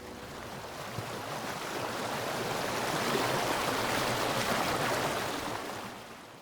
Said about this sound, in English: What is that? It's the waterfall.